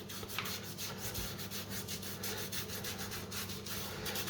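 An old toothbrush gently scrubs bathroom floor tile grout, a steady run of quick rhythmic bristle strokes, close and moderately loud, with no talking.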